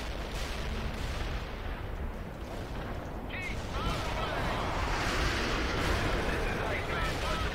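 Heavy artillery fire from the World in Conflict video game rumbles as a dense, continuous barrage of overlapping distant blasts, with someone talking over it.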